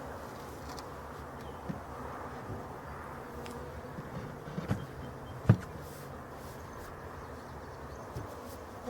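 Bees buzz around a beehive outdoors, a faint continuous hum with a few louder passes close by and occasional small knocks.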